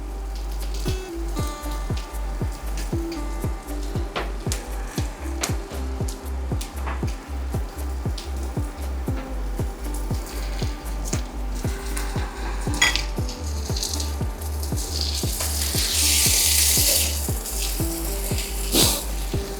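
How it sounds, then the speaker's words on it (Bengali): Mutton pieces, already half-boiled, sizzle steadily in a hot pan as they go in one by one, with rapid crackling spatter and frequent light clinks of a utensil against the pan throughout. "মাটনটা একটা একটা করে পিস আমি এর মধ্যে দিয়ে দেবো।"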